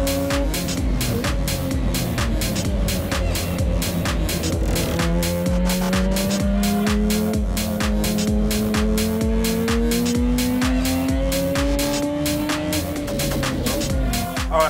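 A car is driven hard during a stunt-driving session, its engine screaming at high revs while the tires squeal in long, rising and falling howls that run continuously for over ten seconds.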